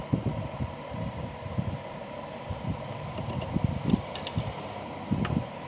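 A sewing machine stitches fabric for the base of a Laddu Gopal dress, a steady mechanical whirr broken by rhythmic low thumping bursts and faint ticks, close by with no voices.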